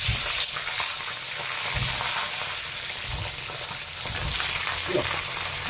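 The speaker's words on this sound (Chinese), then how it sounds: "我们先把鱼要煎一下" A large fish head sizzles as it pan-fries in hot oil, being seared before going into a fish-head hotpot, a loud continuous close crackle with occasional stirring and shifting, no talking.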